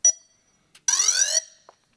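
A Yuneec Typhoon H drone emits an electronic beep when its start button is pressed: a short chirp, a brief tick, then a half-second rising tone and a final faint blip, all close and clear in silence.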